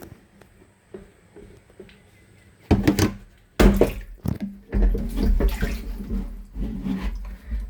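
Reddish, dirty water drains out of a household water tank that is being emptied for cleaning. A faint trickle gives way to loud, irregular gushing and splashing bursts close by, with no talking.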